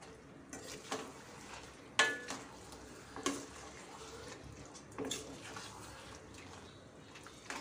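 Marinated chicken for a spicy Nagpur Saoji-style curry being stirred into spices in a pan, with scattered scraping and clacking stir strokes over a quiet, low background hiss, no talking.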